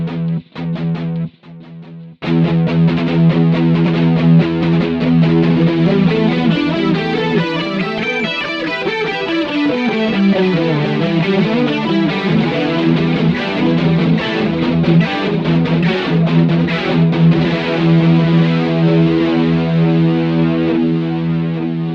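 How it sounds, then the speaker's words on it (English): An electric guitar through a Boss GT-100 with pan delay set to whole-note timing rings out loud, with thick distorted chords and sustained notes trailed by repeating echoes. "You select the pan delay"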